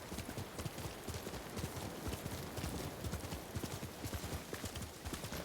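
Horse hooves clip-clopping steadily at close range in Ghost of Tsushima, a dense continuous patter of hoofbeats with no talking.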